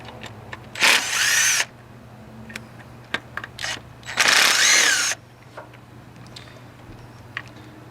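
A power drill spins to loosen the two bolts holding an ignition coil on a Buick LaCrosse 3.8 V6 engine, in two whirring bursts of about a second each, with faint clicks and shop background between them and no speech.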